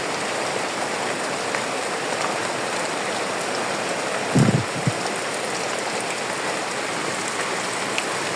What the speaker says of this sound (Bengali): এই দেখেন এখন হালকা হালকা বৃষ্টি হইতেছে।